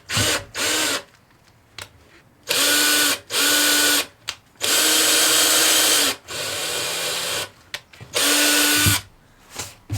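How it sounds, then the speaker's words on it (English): A power drill bores a pilot hole in the back of a van during a DIY plumbing install for a hydronic hot water system, with about six loud whining bursts separated by short pauses, close up. "we're just going to drill a pilot hole back here first"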